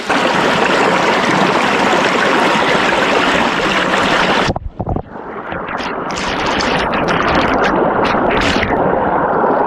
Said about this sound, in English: run it through this sluice box